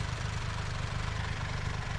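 Triumph Rocket 3 R Black Limited Edition motorcycle with a 2.5 litre engine idling, a steady low throbbing rumble heard close and even throughout.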